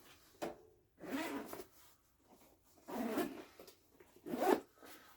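The zipper on a pocket of a compact get-home bag is pulled open in several short, close, crisp zips separated by brief pauses, with no voices.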